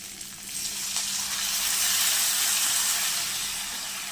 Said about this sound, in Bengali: চিংড়ি মাছটাকে দেখো কেটে তাড়াতাড়ি তেলের মধ্যে দিয়ে দিয়েছি